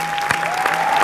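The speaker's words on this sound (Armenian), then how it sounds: "Ես ուզում եմ այս պահին մեր վոկալիստներին, հա, ծափարենք, բարձր" An audience at a national singing gala concert claps for the vocalists, a dense, even burst of applause with a steady tone ringing through it.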